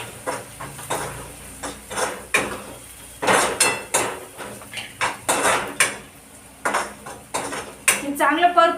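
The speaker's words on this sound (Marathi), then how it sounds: "मी हे सगळं वाटण टाकून घेते आणि परतून घेते चांगलं" Ground masala paste being sautéed in a pan after golden garlic, peanuts and chillies, for a village-style dried chickpea-leaf bhaji: repeated close clatters of a spoon scraping and knocking the pan in irregular bursts, with a brief sizzle near the end.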